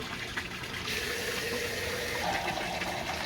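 Water from a garden hose pours steadily into a container, a continuous rushing, gushing flow that stays even and fairly close for the whole stretch with no voices.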